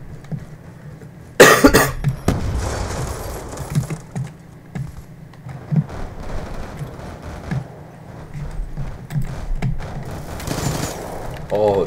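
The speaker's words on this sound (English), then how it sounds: "Oh my gosh, sentry gun?" A sentry gun in Call of Duty Black Ops fires sharp bursts, including a loud blast early on and another near the end, with quieter shots in between and a person talking over the gameplay.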